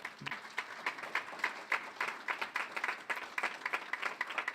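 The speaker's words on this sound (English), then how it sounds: "Please give them a big round of applause." Scattered hand clapping from an awards ceremony audience at a university alumni event, fairly quiet and with individual claps distinct in an uneven rhythm, lasting a few seconds.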